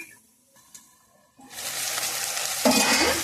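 Okra pieces dropped into hot oil in a pan, a quiet start giving way to a sudden loud sizzle that keeps hissing and swells again near the end.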